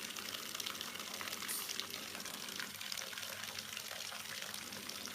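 A toy squirty fish sprays water at a Daniel Tiger toy tugboat, a steady wet gushing and splashing that runs the whole time at close range, with no voices.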